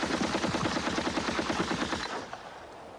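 A close-range gun fires a fast automatic burst of loud, rapid shots for about two seconds, then cuts off into a fading echo.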